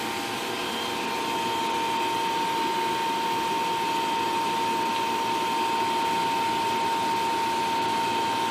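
A potted electric motor runs under load at steady state near 1700 RPM, giving a continuous, even machine hum with a steady whine, loud and unbroken throughout with no talking.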